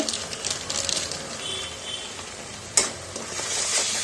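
Spices, salt, Kashmiri chili powder and green chilies sizzling in a pan while being sautéed for spinach chicken, a steady hiss with stirring scrapes and one sharp clack of a utensil partway through.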